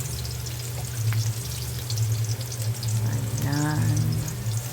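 Chicken sautéing in a pan with ginger sizzles and crackles steadily up close, with brief clinks of a utensil stirring through the frying.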